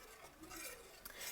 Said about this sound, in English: you keep stirring